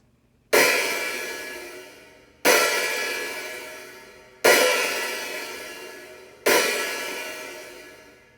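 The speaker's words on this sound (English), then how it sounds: "When you hit it on the edge of the cymbal, edge of the hi hat, it's gonna sound something like this." Four separate hi-hat strikes on the cymbal edge, each a bright crash that rings out and slowly fades before the next hit, spaced about two seconds apart.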